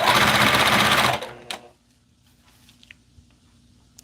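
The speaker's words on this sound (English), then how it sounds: "I'm glad my sewing machine does excellent job." A sewing machine stitches sequins in a fast, loud, close rattling run for about a second, then stops, leaving quiet hum and a few faint clicks.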